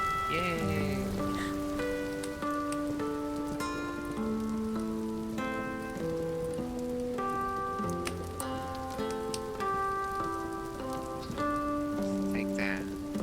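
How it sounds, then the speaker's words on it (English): Steady rain falls on a surface in a game world, a continuous patter heard throughout beneath a bright, tonal musical score that plays over it. "It's raining."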